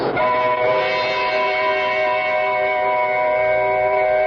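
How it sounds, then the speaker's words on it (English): Sustained, loud rumble and ringing metallic whine of a subway express train rushing through a station without stopping, steady from start to finish with a slight echo. "Just another subway station passed by an express train that didn't stop there."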